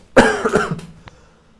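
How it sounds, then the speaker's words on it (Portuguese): A single harsh cough bursts out close up, followed by a short rasping tail and then quiet. "Vou tossir um pouquinho aqui porque eu falei alto pra caramba"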